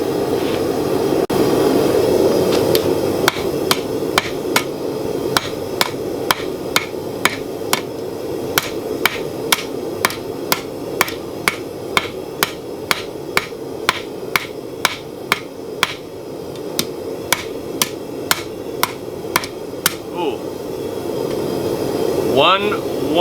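A blacksmith hammers hot steel into a spoon, striking about thirty sharp, ringing blows in a steady rhythm. The blows ride over the constant roar of a forge fire, and the blower keeps rushing after the hammering stops.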